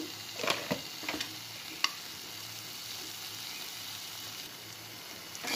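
Yardlong beans with ghee and garam masala frying in a pan, a soft, fairly quiet sizzle with a few stirring scrapes near the start, then a steady hiss with no voices.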